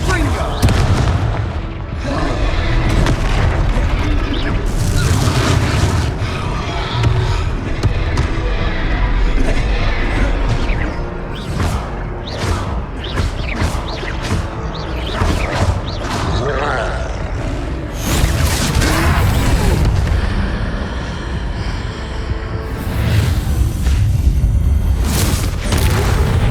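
Repeated fire spell blasts in Hogwarts Legacy during a troll fight, with deep booming bursts and crackling impacts over a dense game score, loud and continuous, with character voices calling out between the explosions.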